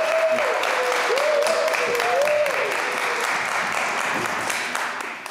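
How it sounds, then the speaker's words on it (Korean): An audience gives sustained applause to welcome Professor Oh Min-seok to a humanities lecture held in a converted agricultural cooperative warehouse. The clapping is steady and dense throughout, with a voice speaking over it. "박수로. 네."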